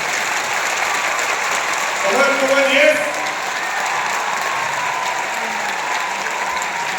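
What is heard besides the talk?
audience clapping with full enthusiasm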